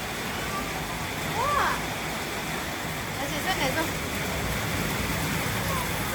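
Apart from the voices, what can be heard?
heavy rain pouring outside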